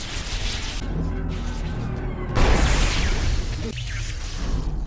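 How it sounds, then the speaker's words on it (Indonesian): A machine blows up in a science-fiction film scene, with a sudden loud blast midway cutting across a dense cinematic soundtrack of music and effects, followed by a lingering noisy rush that fades near the end. "Saat itu juga, mesin ciptaan Frank meledak."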